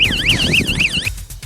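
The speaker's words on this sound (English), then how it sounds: "it's the siren of the tip-up" An ice-fishing tip-up alarm's loud electronic siren warbles in rapid rising and falling sweeps for about a second, then cuts off abruptly into rustling noise.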